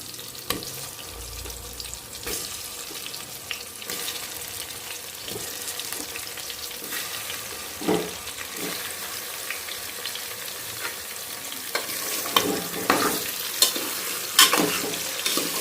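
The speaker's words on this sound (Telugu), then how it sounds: "ఇప్పుడు ఇందులో వంకాయలు వేస్తున్నా." Brinjals frying and being stirred in a tomato gravy at home, a steady sizzle with repeated scraping and clinking of a spoon against the pan, plus a brief splash of water partway through.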